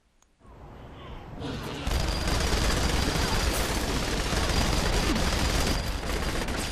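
Minigun fire in the video game Saints Row: The Third, a dense, continuous roar of rapid shots that comes in abruptly after a brief quiet start and stays loud and sustained to the end.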